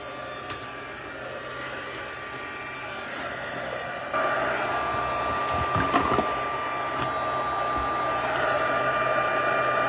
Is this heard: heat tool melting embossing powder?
yes